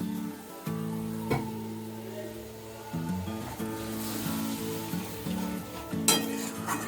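Water goes into a pan of spice paste cooked down until the oil separates, for a Bengali egg posto dish, giving a steady close sizzle with faint stirring clinks and a brief hiss as the liquid hits the hot pan.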